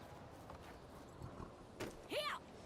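Horse hooves clip-clopping in the video game Medieval Dynasty, a few soft hoof hits spread across the moment, ending in a short, bright whinny-like cry, with faint background ambience.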